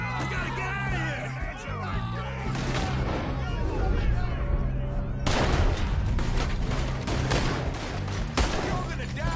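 Gunfire in Red Dead Redemption 2: a ragged volley of shots and booms breaks out and grows denser, with shouting voices and game sounds mixed in, loud and close.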